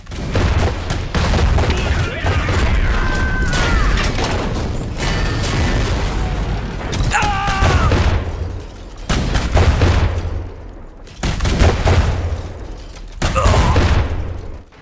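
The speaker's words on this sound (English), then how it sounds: "Its cannons fire quickly, as does its pair of rocket launchers." Cannons and twin rocket launchers on the Wotan, an eight-legged armored mech in the Iron Harvest strategy game, fire in repeated loud bursts and booms amid battle noise, with short lulls between volleys.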